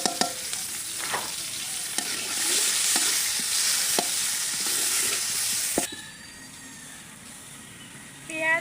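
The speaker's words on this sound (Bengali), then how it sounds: "পেঁয়াজ রসুন ভাজা হয়ে গেছে" Onion, garlic and bay leaf fry in hot oil in a pan, a steady loud sizzle with occasional stirring clicks, cutting off abruptly near the end to a quieter background.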